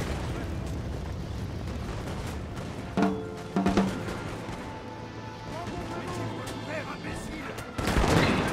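Black-powder gunfire at a Napoleonic-era battle reenactment portraying French troops at Munich: a few scattered distant musket reports, a couple of sharper cracks mid-way and a louder burst at the end, with crowd noise and talking throughout.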